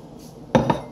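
Young jackfruit dropped into a bowl for a teriyaki salad: a single close clunk with a brief ringing clatter, followed by a second lighter knock, after a quiet moment.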